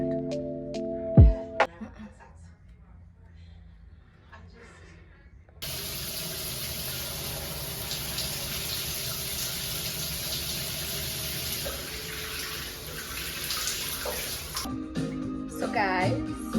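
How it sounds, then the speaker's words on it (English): Water runs in a home shower: after a few seconds of quiet handling noises, a steady hiss of spray starts abruptly and continues for about nine seconds, then cuts off into clattering. "I need to go and shower"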